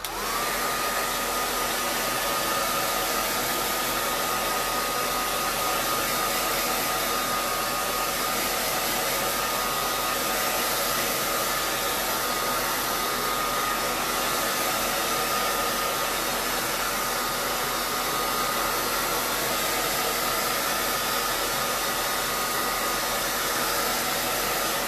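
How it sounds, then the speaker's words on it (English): A handheld hair dryer blows steadily on wet chalkboard paint, a loud, continuous broadband whoosh with a faint motor whine that holds unchanged for the whole stretch, close to the mic and with no voices. "I have my handy dandy hair dryer that I'm going to dry this with"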